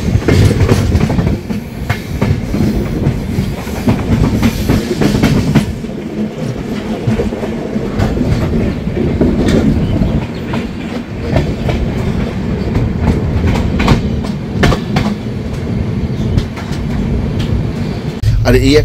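Kolkata–Jaynagar weekly express rolling along, heard from inside a 3AC coach, with a loud constant rumble and rhythmic clickety-clack of wheels over rail joints, sustained and close throughout.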